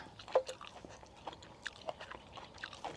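Someone bites into a crisp jujube fruit with one sharp crunch, followed by a run of softer, close crunchy chewing sounds.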